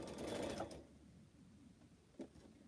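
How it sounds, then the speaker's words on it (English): A quilting sewing machine stitches fabric for pineapple blocks in one short, faint mechanical burst, then goes mostly quiet apart from a small click. "Make sure I don't sew the same fabric on here."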